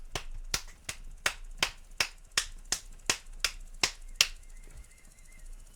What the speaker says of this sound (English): I'm just clapping my way through the forest.